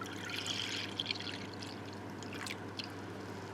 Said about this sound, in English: I'm going to add all the rest of my milk